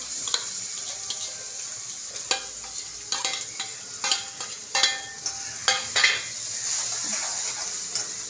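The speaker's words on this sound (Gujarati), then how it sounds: "મરચાં સડી ગયા છે હવે આપણે મિક્સ કરશું" Chillies and capsicum sauté in a pan with a soft steady sizzle, broken by several sharp scrapes and clinks of a spatula stirring against the metal, close and alone with no talking.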